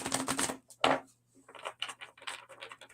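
A tarot card deck being shuffled indoors, with a crisp flurry of riffling card snaps, a short burst, then a series of softer rhythmic card flicks and taps, fairly close and without talk.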